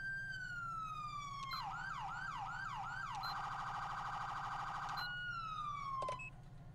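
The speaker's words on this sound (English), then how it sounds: "And then we also have new sirens." A loud police siren in the video game GTA V with the LSPDFR mod cycles through patterns, a slow wail giving way to quick yelps, then a rapid warble before returning to the wail.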